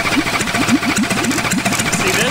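A military four-cylinder engine fitted to a go-kart idles unevenly, not firing on all cylinders, giving a rapid, lumpy putter at close range with no talk.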